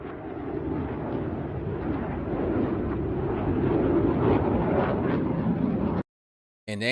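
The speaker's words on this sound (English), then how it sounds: "Those were F-22s." F-22 fighter jets passing overhead make a loud, continuous broadband roar for about six seconds, then cut off abruptly.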